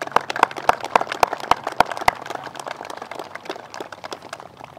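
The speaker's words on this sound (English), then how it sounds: "would you please join me in a round of applause for your family and friends" Graduation ceremony crowd applause, a scattered mix of sharp individual claps and steady clapping from a large audience, loudest early on and slowly thinning out.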